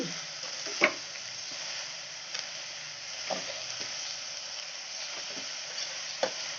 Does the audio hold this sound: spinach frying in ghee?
yes